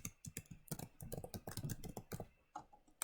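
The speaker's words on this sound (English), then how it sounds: "So I'm going to type Iron Man." Fingers tap quickly on a computer keyboard, producing a close, steady patter of crisp key clicks with brief pauses between bursts and no talk.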